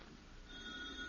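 An old-fashioned telephone bell rings in a family comedy scene, a steady electric ring starting partway through and continuing to the end, moderately loud and heard alone without talk.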